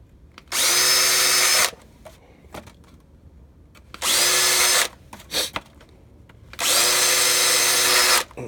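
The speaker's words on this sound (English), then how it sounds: "you can drill holes directly into it." A power drill whines through three bursts of drilling holes into a house box, each about a second long, with short pauses and light handling clatter in between.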